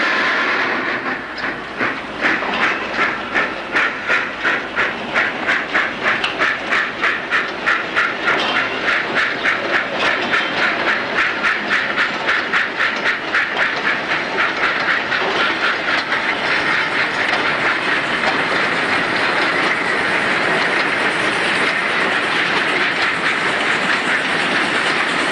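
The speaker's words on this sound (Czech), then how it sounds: "Obrovská mašinka jela a jela a jela." Big long red locomotive running on rails, a loud continuous rumble with a fast, regular clickety-clack of wheels over rail joints that smooths into a steady roar as it speeds along.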